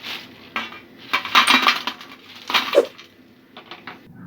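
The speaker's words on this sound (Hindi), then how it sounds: "अब हम निकाल लेंगे इसे छन्नी में।" Fried crispy cornflour-battered chicken pieces tipped into a metal strainer, giving a few clattering, clinking knocks of pieces against metal, close and fairly loud, with quiet gaps between bursts.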